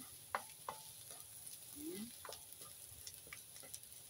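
Banana heart sautés in a pan with ground meat and garlic, giving a faint, soft sizzle broken by scattered light clicks and scrapes of a spoon against the pan, with no voices.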